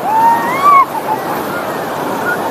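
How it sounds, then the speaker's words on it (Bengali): Roaring surf at Digha beach on the sea, a steady broadband wash of breaking waves with a brief swell near the start, and faint voices or tones over it. "একবার গর্জনটা শোনো সমুদ্রের"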